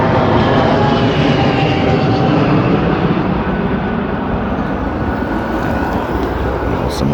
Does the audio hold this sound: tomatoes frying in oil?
no